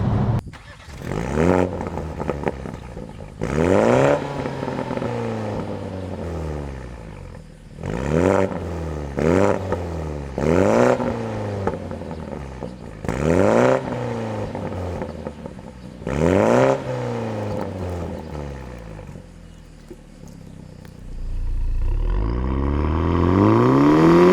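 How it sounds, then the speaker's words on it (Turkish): Modified 258 HP BMW Z4 G29 sports car with open air filter, exhaust revved repeatedly, about seven sharp rising roars with brief pauses between, loud and close, ending in a longer building rev. "Ama ben egzoz sesini biraz daha duymak için bir de açık hava filtremiz var."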